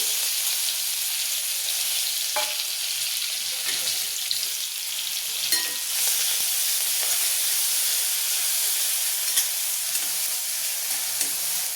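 Green masala paste fries in hot oil with tempered mustard seeds for patwadi rassa. It makes a loud, steady, close sizzle with occasional stirring scrapes and no talk.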